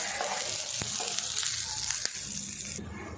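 Dried red chilies and curry leaves fry in oil, crackling and sizzling steadily with a broad hiss, punctuated by a few sharp pops and spatters, close up and fairly quiet.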